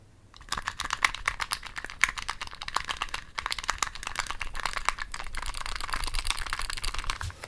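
A pen scribbles across paper in close-up, a dense run of fast scratchy strokes that continues for several seconds, with brief pauses between bursts and no talking.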